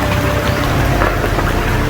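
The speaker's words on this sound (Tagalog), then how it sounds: "may ulan na" Rain falls steadily in hot weather, a dense, even hiss and patter of drops with no pauses, loud and close.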